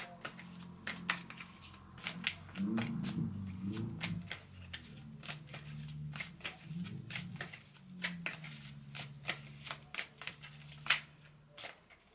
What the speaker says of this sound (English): I'm going to shuffle my Guardian Angel Tarot deck next